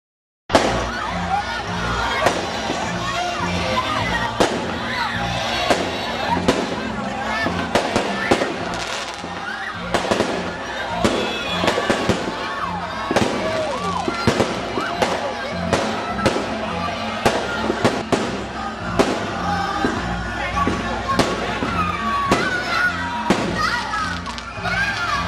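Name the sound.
fireworks at Christmas tree lighting in Greece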